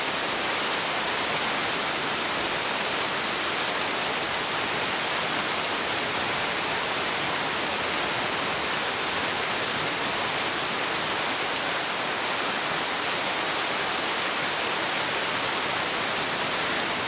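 Heavy tropical rain in Puerto Viejo pours in a dense, steady roar, constant from start to finish with no voices.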